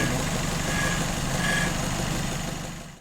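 Citroën Traction car engine running at a steady idle, its rebuilt motor giving an even, continuous mechanical hum with no break.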